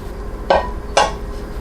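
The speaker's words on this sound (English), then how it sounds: "Put this pan down." A metal pan is set down on a kitchen surface with two sharp, close clacks about half a second apart, alone over faint background hum.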